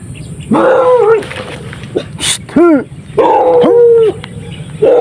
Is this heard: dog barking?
yes